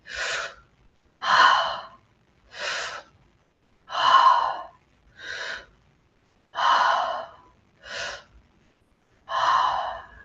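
Deep, audible breaths in a guided breathwork exercise, eight separate breaths drawn in and let out at a slow, even pace, close and clear with no talking over them.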